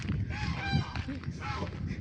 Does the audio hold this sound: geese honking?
yes